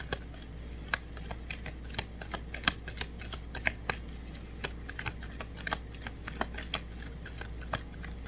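Kuan Yin oracle cards being shuffled by hand in a card reading, a steady run of crisp riffling snaps and soft slides close to the mic, with no talking.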